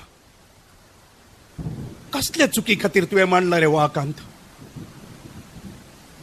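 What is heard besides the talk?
thunderstorm sound effect in a Konkani drama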